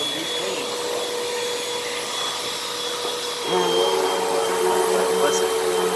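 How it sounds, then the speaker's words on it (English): Hoover WindTunnel upright vacuum cleaning a rug, a steady loud motor whine that shifts to a lower, heavier drone partway through as the brush agitates the rug. "this Hoover is agitating the rug under the rug"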